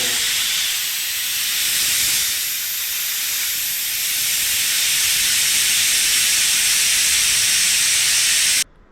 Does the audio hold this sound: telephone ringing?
no